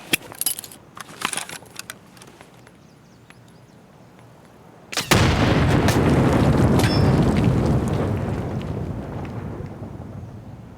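A grenade bursts in Escape From Tarkov with a sudden loud boom about midway, its rumbling blast slowly decaying, after a few scattered clicks and rattles in an otherwise quiet stretch.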